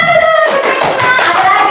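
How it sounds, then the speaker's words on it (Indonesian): Close, loud hand clapping in a quick rhythm, mixed with voices chanting along, in a primary school classroom. "tepuk tangan dulu"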